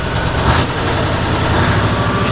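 Iveco 330-35 truck engine running loud and steady just after start-up, a dense, rumbling roar that holds constant throughout without a break.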